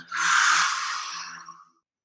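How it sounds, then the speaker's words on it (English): A single long, breathy exhale through the mouth, close and soft, fading out after about a second and a half. "Exhale through the mouth."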